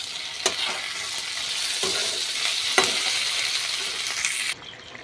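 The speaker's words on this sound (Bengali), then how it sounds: "শুধু খুন্তি নেড়ে কষিয়ে নেব" A spatula stirs frying potatoes and ginger in a pan, with a steady loud sizzle and a few sharp scraping knocks against the pan before the sizzle suddenly drops.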